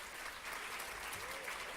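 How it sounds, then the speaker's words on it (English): Audience applause for debaters at a school debate competition, a steady dense wash of clapping from a crowd heard at moderate distance with no pauses. "Can we have a big round of applause for all our lovely debaters?"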